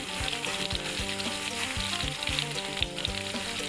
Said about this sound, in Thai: ทอดหมูนะครับพี่น้องแล้วก็ทอดปลาดิบนะครับ